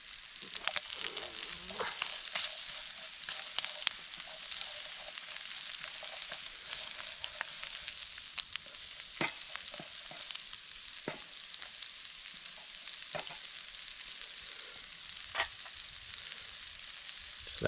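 Garlic and the last bit of onion frying in a pan over a campfire for Spam tacos, a steady close sizzle with scattered sharp crackles and pops running throughout, no voices.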